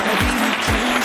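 Guests clap together as a bride and groom enter a wedding reception hall, a brief burst of loud, continuous applause over low music.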